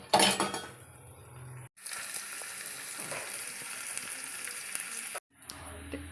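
Coriander seeds and cumin dry-roasting in a pan for ginger chutney give a light, steady crackle and rustle, with brief clinks of utensils and short pauses; no one speaks.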